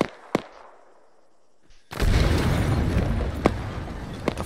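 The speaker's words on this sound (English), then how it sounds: "What the fuck kind of grenade was that?" Grenade explosion in the Arma III video game bursting loudly and close after a quiet stretch with a sharp crack, followed by a sustained rumbling roar and scattered distant shots.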